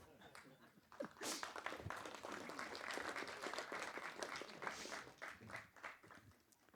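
Applause from a convention audience of origami folders, beginning with a few scattered claps that swell into a fuller round, with a voice briefly audible, all fairly faint.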